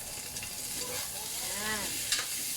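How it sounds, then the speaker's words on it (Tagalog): Vegetables with carrot sautéed in a pan for Pancit Cabagan, giving a steady close sizzle and frying hiss with stirring scrapes throughout, no talking. "Ito, dito ko gigisa yung gulay. Pwede natin yung carrot."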